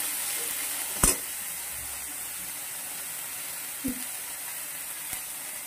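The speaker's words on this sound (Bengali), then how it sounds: "আর রসুনের টুকরো, হালকা একটু ভাজা ভাজা হোক, মিডিয়াম ভাজা, কাঁচা গন্ধটা গেলেই হবে।" Ginger and garlic pieces sizzle gently in a pan, a steady soft frying hiss throughout with a few brief clinks of a stirring utensil, close and alone without talk.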